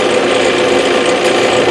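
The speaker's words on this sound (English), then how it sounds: "And we just drill a little hole" A power drill bores a small hole through a soft aluminum bracket held in vice grips, giving a loud, steady whirring grind that runs without pause.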